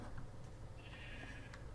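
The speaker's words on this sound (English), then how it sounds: "sheep number 2, prepare to die" A Minecraft sheep gives a short, clear bleat over a steady low background hum, with no talking.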